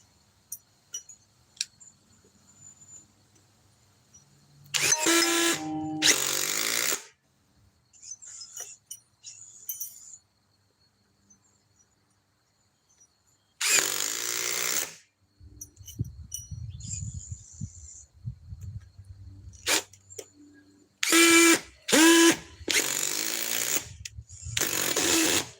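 A DeWalt power tool fires in several short, loud bursts of a few seconds each, separated by long quiet gaps with faint clicks and handling noises.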